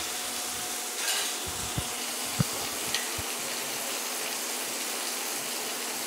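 Ginger-garlic paste frying with golden-browned onions in a pan for a fish-head ghonto, a low steady sizzle with a few soft clinks of a utensil against the pan.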